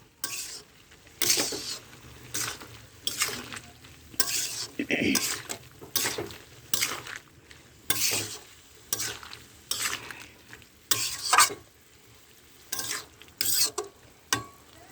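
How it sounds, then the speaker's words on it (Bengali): A spoon stirs bottle gourd cooked with parshe fish in a metal pan, giving repeated scraping and clattering strokes in an irregular rhythm over a low sizzle, close and fairly loud, with no talking. "এবার আমি একসাথে মিক্স করব।"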